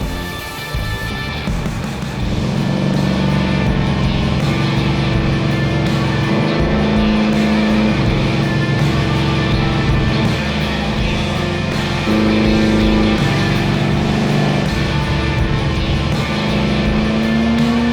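A Mercury Comet muscle car's engine drones and rumbles steadily, shifting pitch as it drives, loud and continuous with no voices.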